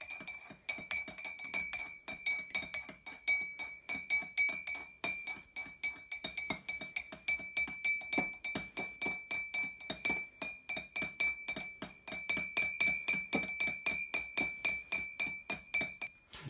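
A spoon rings against the side of a utility cup of tea, stirring in quick repeated clinks that keep a steady rhythm and carry on for several seconds.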